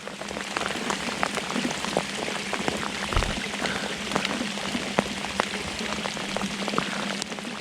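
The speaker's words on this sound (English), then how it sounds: "it's pouring down rain" Heavy rain pours down steadily during crappie fishing, a dense hiss of drops pattering on a surface with scattered louder splats, no voices.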